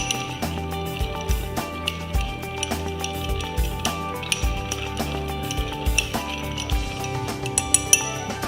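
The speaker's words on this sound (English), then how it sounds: "Couple more cubes of ice. Keep stirring until you become old-fashioned." Ice cubes clinking steadily in a glass as a whisky old fashioned cocktail is stirred, a bright, rhythmic tinkling that runs throughout, close and fairly clear.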